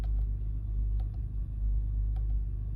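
A Honda Passport engine idles steadily with its idle-stop system switched off, a continuous low rumble close by with faint clicks on top and no talking.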